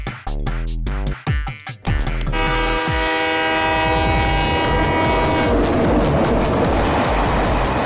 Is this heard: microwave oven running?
no